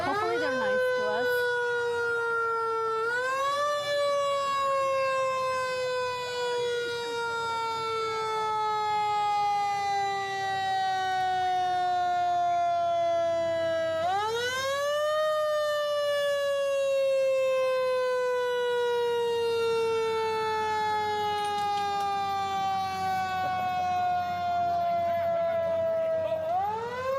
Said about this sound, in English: We won't try and talk over the sirens, so we'll just kind of let that come by.